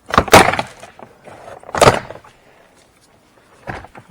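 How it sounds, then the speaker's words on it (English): Pop clips on the front door card of a 2008 Mitsubishi Pajero release with three loud, sharp plastic snaps, each followed by a brief rattle, separated by quiet gaps. "And now all we have to do is release all the pop clips."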